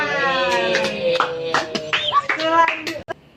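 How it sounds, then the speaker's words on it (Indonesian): Students in a classroom clap their hands in a rhythmic pattern, sharp claps punctuating loud, chanting voices close by. "Tepuk tangan."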